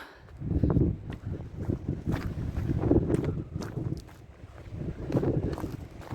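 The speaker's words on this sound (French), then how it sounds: "on entend le vent dans les arbres, c'est très joli" Wind moving through trees outdoors during a stormy spell makes a steady, close, rushing noise that swells and eases with gusts. No one speaks.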